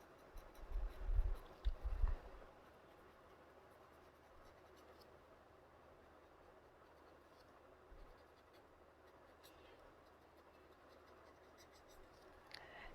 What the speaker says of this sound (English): You can, if you want, do it with your graphite pencil.